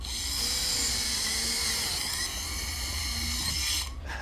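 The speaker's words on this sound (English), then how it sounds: "people came up with ways to make electric motors and attach them to the spinning drill bit." An electric drill with a motor spinning a drill bit whirs at a steady high pitch, close and continuous, then cuts off near the end.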